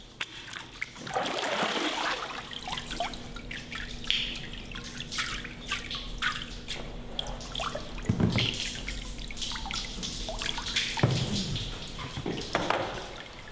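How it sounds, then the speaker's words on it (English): Water draining and dripping from a papermaking mold held over the vat of pulp: a steady trickle and patter of drops with splashes into the vat, close and continuous, ending in a few scattered drips. "shake the mold so the pulp settles evenly before the excess water drains through the porous surface"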